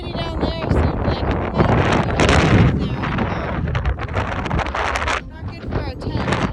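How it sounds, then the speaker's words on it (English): Strong wind gusting on an exposed Scottish mountain top in the Cairngorms, roaring and buffeting the microphone in loud, uneven blasts, with a voice talking underneath. "It sure is windy up here."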